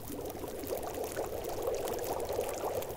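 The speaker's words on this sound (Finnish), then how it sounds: "Keitä vettä." Water boiling and pouring in The Long Dark video game, a continuous rushing, bubbling wash of liquid that holds steady and fairly loud throughout, with no talking.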